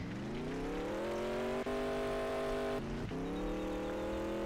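A car engine in the Roblox game Mad City hums loudly and steadily, its pitch rising gradually as it accelerates, with brief dips where it shifts, and no talk over it.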